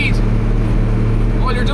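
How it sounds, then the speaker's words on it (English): A Volvo fire engine over-revving while driving, its loud, low, steady engine drone filling the cab as a person talks over it. "the engine is already over revving"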